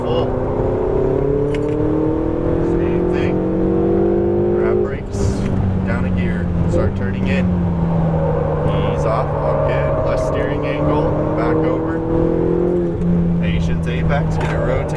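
A Ferrari 488 GTB on a race track accelerates at full throttle, its engine note climbing steadily through rising revs, dipping briefly at a shift, then climbing again, loud and close beneath an instructor's continuous coaching.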